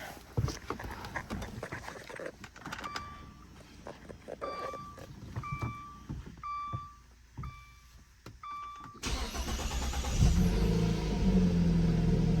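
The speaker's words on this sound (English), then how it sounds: "check functionality of the starter by making it do the only job it is responsible for" A string of evenly spaced electronic beeps, then a 2016 Dodge Dart engine cranks on a newly replaced starter and catches, settling into a loud, steady idle rumble.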